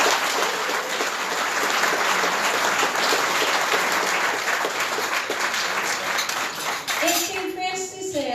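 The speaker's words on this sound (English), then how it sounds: "Can we give them all another round of applause?" Audience applause at a business award ceremony honoring teachers, a sustained dense crowd of clapping that fills the room at steady loudness, with a voice starting to speak over it near the end.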